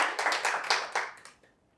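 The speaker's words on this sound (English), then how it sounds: "Yeah, give her a round of applause." Brief audience applause at a leadership talk, a short burst of close, crisp hand claps that thins out and fades to quiet within a second or so.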